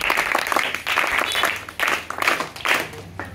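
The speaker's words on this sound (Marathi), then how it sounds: "वाजवा टाळ्या, वाजवा टाळ्या" An audience claps at a street play for Constitution Day in Waghera, with loud bursts of applause that rise and fade in waves over a brief stretch.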